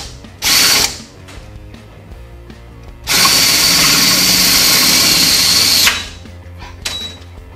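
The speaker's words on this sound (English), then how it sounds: "slowly work our way up to this 9/16 drill bit" A power drill with a 9/16 bit bores through metal on a 1969 Ford Mustang coupe, whining loudly in two bursts, a short one then a longer sustained run, with a high-pitched grinding tone.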